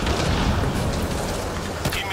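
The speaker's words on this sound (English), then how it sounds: "Grenade, watch out." A grenade explodes in the game Apex Legends, a loud booming blast that rumbles and fills the whole short moment with dense low noise.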